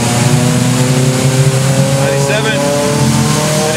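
A turbocharged car engine with a front-mounted intercooler drones loudly and steadily through a logged full-throttle pull, a dense, close, continuous roar with no clear rise or gaps.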